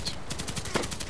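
Brief automatic fire from a Sig Sauer MPX in the Contract Wars shooter game, a quick string of sharp metallic shots, moderately quiet and close, with no talking.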